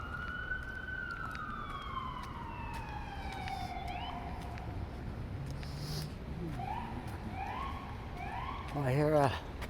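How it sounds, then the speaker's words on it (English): A police siren wails in the distance on a snowy city street in Halifax's South End, its long falling tone giving way to shorter whooping cycles, with a louder yelp burst near the end. "I hear a police siren over there."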